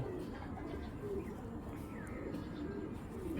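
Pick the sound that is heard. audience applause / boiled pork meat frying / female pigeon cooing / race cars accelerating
female pigeon cooing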